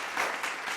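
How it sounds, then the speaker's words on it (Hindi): A short wash of audience clapping at a virtual national achievement day awards fest, dense and steady, less than a second long. "तालियां दोस्तों"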